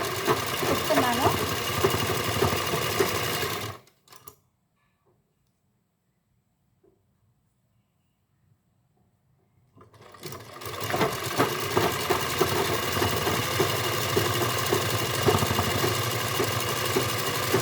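A sewing machine stitches fabric in two close, steady runs of rapid mechanical whirring, separated by about six seconds of near silence before it starts up again.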